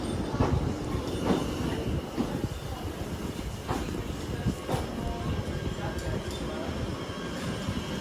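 A Class 730 Aventra electric train rolls past nearby with a steady rumbling roar and faint rhythmic clacks of wheels over rail joints, continuous throughout.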